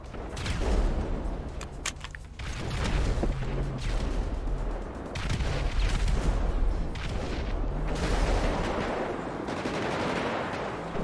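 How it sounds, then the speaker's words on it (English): Gunfire in the FivePD video game during a police roleplay scene with bikers, rapid automatic bursts and scattered shots crackling continuously, loud and dense, with no talk. "Oh, shots fired. 1-4-6 shots fired."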